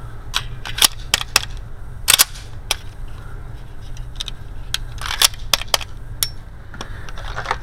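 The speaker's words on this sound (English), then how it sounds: "I'm shooting 15 meters." A Bul 1911 single-stack 9x19 pistol fires at 15 meters: sharp, irregular cracks, a few close together, alongside fainter pops from other shots on the range.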